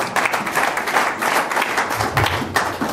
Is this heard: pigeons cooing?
no